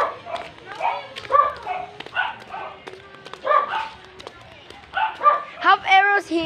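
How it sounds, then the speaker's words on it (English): Dog barks and yips from a video game come in repeated bursts under near-constant excited talk from players, with occasional thumps. "to protect me from the predator dog"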